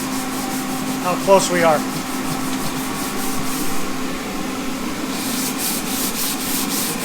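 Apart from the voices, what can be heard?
hand sanding a diesel oil pan with red primer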